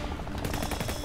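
Rapid gunfire in the video game Dead or School, a dense burst of quick repeated shots filling the whole moment, loud and close with no talking.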